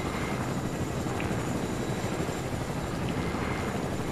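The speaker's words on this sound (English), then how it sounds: "So why are you in a helicopter?" A helicopter in a video game drones with a dense, steady rotor and engine roar, loud and unbroken throughout, with no voices.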